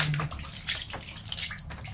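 Water poured out of a reptile enclosure, splashing and sloshing in short uneven bursts over low background noise.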